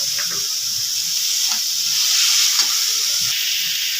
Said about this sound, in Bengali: এবার চিকেন কুচানোটা দিয়ে দেবো।